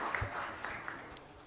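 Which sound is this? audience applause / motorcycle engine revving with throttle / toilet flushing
audience applause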